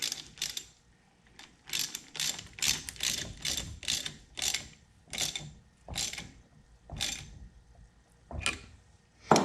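A Craftsman ratchet tightens down the front oil pump of a 200-4R transmission, giving repeated bursts of close, crisp clicking in a steady on-off rhythm with short pauses between strokes.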